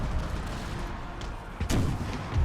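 Cannon artillery fire on a battlefield in Empire Total War, a couple of booming shots, one sharp and louder near the end, over steady background din.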